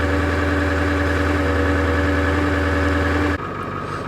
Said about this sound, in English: I'm just going to let it idle here for a little while